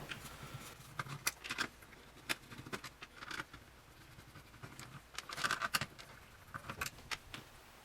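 Screws come out of an NES console case, with small close clicks, metallic taps and rattles arriving in irregular bursts with short pauses between them.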